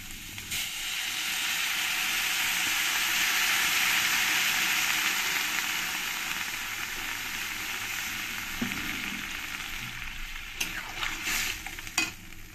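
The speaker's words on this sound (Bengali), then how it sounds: "এবার আমি জল দিয়ে দেব।" Water poured into a hot pan of lightly fried flat beans (bean pods), setting off a loud, steady hiss and sizzle that swells early and then fades gradually, with a few stirring clicks near the end.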